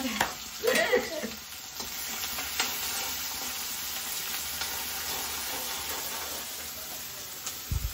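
Onion sautéing in a pan while a jackfruit curry is made, with an early burst of spatula scrapes and clatter and then a steady, even sizzle that runs alone.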